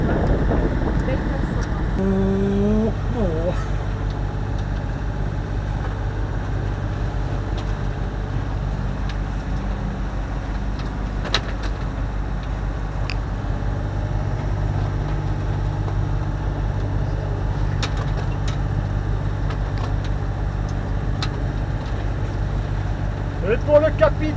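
A sailboat's engine drones steadily throughout, a low continuous hum with some wind and faint background voices.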